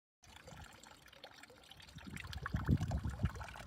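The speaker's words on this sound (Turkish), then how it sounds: "Bir sokağın sonunda taş bir çeşme görüyorum. Musluğundan su damlıyor." Water trickles and splashes steadily from the tap of a stone street fountain, quiet at first and then louder and fuller, like a small stream running.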